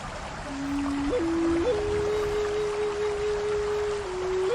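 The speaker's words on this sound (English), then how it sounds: "I have flute music with river sounds" Native American flute plays sustained, slowly stepping notes over a constant rushing river, both fairly loud and steady with no voices.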